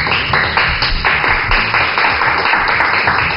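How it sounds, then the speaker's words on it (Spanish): A live studio audience on a Peruvian TV programme claps to welcome a guest, a university lecturer; steady, dense clapping fills the whole stretch at a moderate level, slightly muffled, with no talking over it. "pido un aplauso para mi siguiente invitada"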